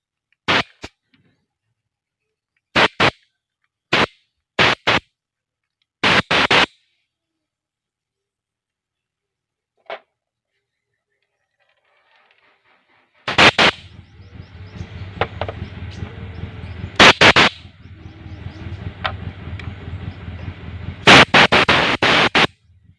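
Compressed air blasts through the holes of a Revo motorcycle carburetor in short, loud, sharp bursts, then a longer stretch of steady hiss broken by further hard blasts.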